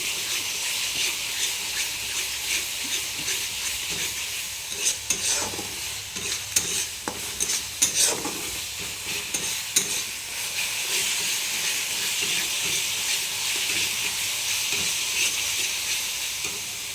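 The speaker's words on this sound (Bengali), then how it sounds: "মশলাটা ভালো করে কষে নেওয়া হোক।" Spice masala being fried and stirred in a pan for a chicken dish, a steady soft sizzle and hiss with scattered spoon scrapes and clinks in the middle, no voices.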